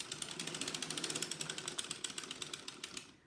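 A circular sock knitting machine cranked steadily by hand gives a dense, rapid ratcheting click of its mechanism, close and continuous, slowing to a stop at the end.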